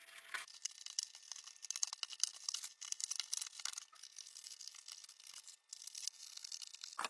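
Cardboard being cut along a marked section, heard as faint, quiet scraping and crinkling strokes that stay steady for several seconds with brief pauses and no talk.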